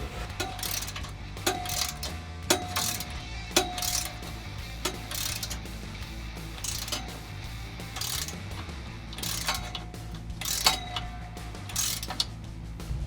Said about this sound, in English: I'm just going to go ahead and tighten them down to 45 foot-pounds using a clip tight torque wrench